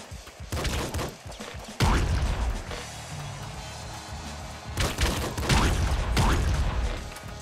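Laser pistol shots from the video game Nuclear Throne, with loud bursts of zapping fire that come in clusters, separated by quieter stretches of game noise.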